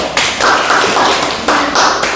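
A classroom of students claps together during a micro-teaching Islamic moral studies lesson. The short, close bursts of clapping start and stop in two or three rounds, with no talking.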